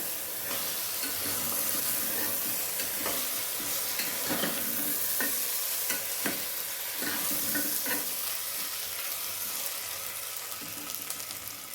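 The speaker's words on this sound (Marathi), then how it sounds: "आणि सर्व परत आपल्याला मिक्स करायचे चांगलं" A snack mixture with rice is stirred in a hot pan, repeated scraping and clattering strokes over a constant loud sizzle, close and without speech.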